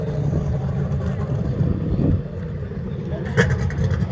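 A boat engine running rough and misfiring out on the water makes a loud, uneven low rumble and sputter, with a louder burst near the end and voices underneath.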